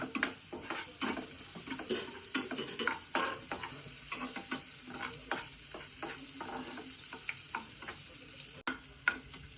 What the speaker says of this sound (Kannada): ಬೆಳ್ಳುಳ್ಳಿ ಶುಂಠಿ ಎರಡನ್ನೂ ಫ್ರೈ ಮಾಡ್ತಾ ಇದ್ದೀನಿ